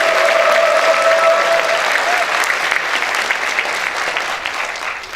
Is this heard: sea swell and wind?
no